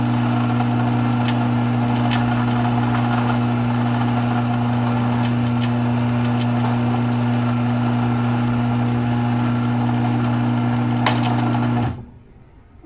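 A Performax chain drive garage door opener runs with a steady, loud mechanical drone and rattle for about twelve seconds before cutting off abruptly into quiet.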